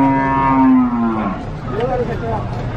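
A cow gives a loud, long moo at the Nglangon livestock market in Sragen, Central Java, followed by a fainter second call against steady crowd and market noise.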